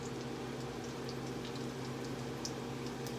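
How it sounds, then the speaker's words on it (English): Sourdough starter discard sizzles as it fries in a pan, a steady, even crackle with faint pops throughout under a low hum, and no voices. "And I'm going to let it fry up."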